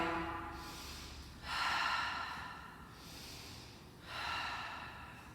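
Slow, deep breaths during a barre class, with long, airy exhales and inhales alternating at an even pace, close and fairly quiet with no talk.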